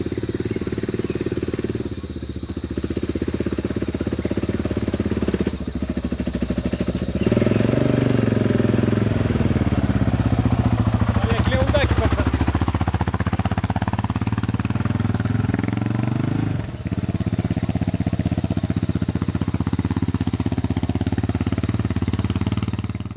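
A heavy motorcycle labours up a hill on a ride through Gabon, its engine droning loud and steady, rising in revs around the middle before settling back, with no voices.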